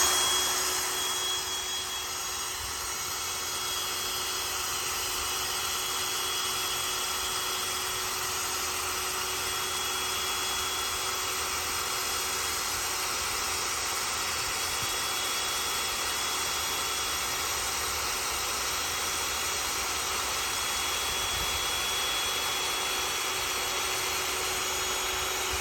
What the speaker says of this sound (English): You see that the airbed is inflating, and this is pretty fast